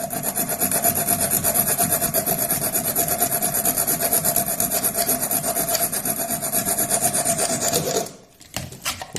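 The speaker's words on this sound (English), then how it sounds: "Right, little saw, hacksaw." Hacksaw cutting a part for a Wltoys A979-B RC truck steering fix, a steady rasping back-and-forth stroke that runs continuously and close for about eight seconds, then stops abruptly.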